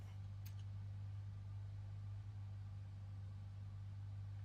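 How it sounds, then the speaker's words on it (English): Boeing 777 jet engine in Microsoft Flight Simulator, a steady low drone with a constant hum that holds level throughout, no voices. "let's go ahead and start up engine number 2"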